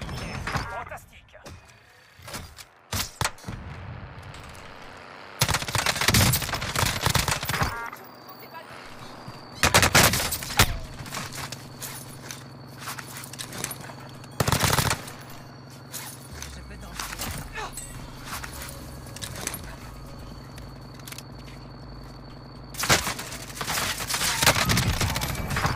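M13 rifle fire in a first-person shooter video game: sharp bursts and single shots crack out in clusters across the clip, interspersed with quieter game ambience and mechanical clatter, with a voice speaking at times.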